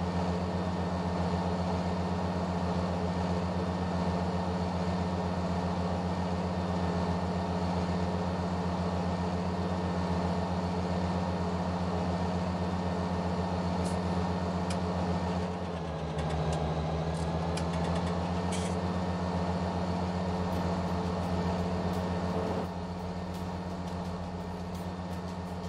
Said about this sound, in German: Das Getriebe schön hochheult. Der Motor auf 1800 Umdrehungen läuft.